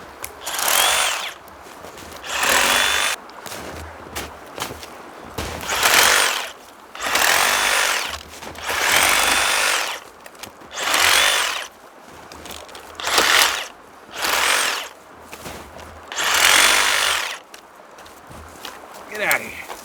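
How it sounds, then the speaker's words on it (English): Powered pruning saw blades cutting through soft pine branches outdoors, loud close bursts of whining cutting repeated about eight times with short gaps, and a voice speaking between cuts. "These pruning blades do work on soft wood."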